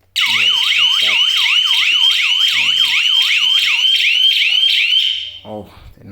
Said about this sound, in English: the alarm system is going to go off, even if it's armed or not armed